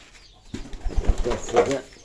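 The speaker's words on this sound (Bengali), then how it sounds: "দেখতে পাচ্ছেন কবুতর অনেক সুন্দর বেবি হয়েছে" Pigeons with young chicks give soft, low cooing after a brief quiet start, close by, with some rustling.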